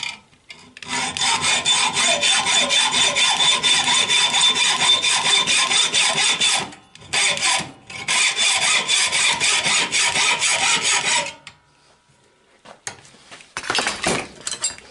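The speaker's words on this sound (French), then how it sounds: "je mets donc ma pièce dans mon étau, et je coupe le surplus" A metal fuel-line tube for a Citroën Traction 11B, held in a vise, is sawn through to cut off the excess, giving a steady close rasping stroke rhythm for about six seconds, a brief pause, more sawing, then a short final burst.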